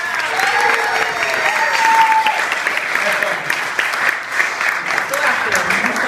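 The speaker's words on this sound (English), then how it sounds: "So, round of applause for the best men," Wedding guests applaud the best men at a reception, a loud, sustained burst of clapping with cheers and voices mixed in throughout.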